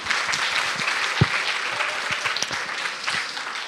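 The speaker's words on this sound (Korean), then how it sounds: "다시 한번 큰 박수 부탁드리겠습니다" A multi-ethnic church congregation gives a big round of applause, a close, dense and steady clapping throughout with a few louder individual claps.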